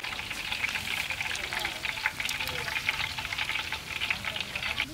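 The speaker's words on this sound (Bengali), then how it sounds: "এই সেই ছয় সাত কেজি ওজনের কোরাল মাছ সেটা ফ্রাই হয়ে গেছে" A large six-to-seven-kilo koral snapper fries in a pan, giving a steady, close crackling sizzle with sputtering pops that runs throughout without talk.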